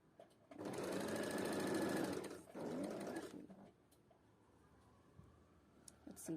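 A sewing machine runs a straight stitch in one steady whirring burst of about three seconds, pauses briefly, then resumes before fading to quiet room noise.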